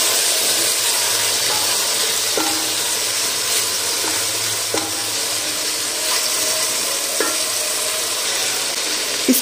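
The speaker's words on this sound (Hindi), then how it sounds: "मिक्स कर लेंगे अच्छे से।" Vegetables with soy sauce and chili sauce being stirred in a hot pan, a steady loud sizzle with occasional soft scrapes and knocks of the utensil.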